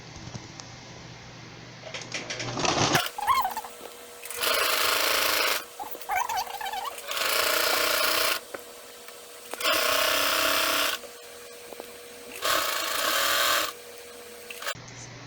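A sewing machine stitches along the cut edge of a sleeved blanket in several bursts of a few seconds each, with short quiet pauses in between, loud and close.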